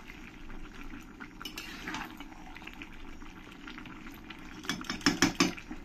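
Mutton for Bengali mutton kosha simmers in the water it has released, giving a soft, steady bubbling and sizzle that turns louder and more popping near the end.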